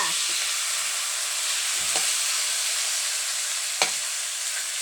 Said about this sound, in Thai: ลวนไก่ต่อค่ะ